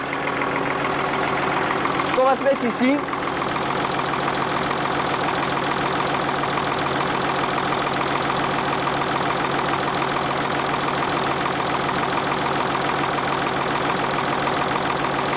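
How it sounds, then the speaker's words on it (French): Warm backhoe loader diesel engine idling with a steady, loud, even drone close up; someone speaks briefly over it near the start. "Donc là le moteur est démarré, il est chaud"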